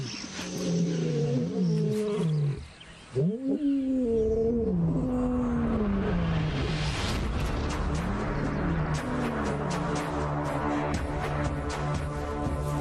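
A male lion in the African wild roars in long, deep, rumbling calls that grow into a series of heavy grunting pulses, loud and close and heard alone.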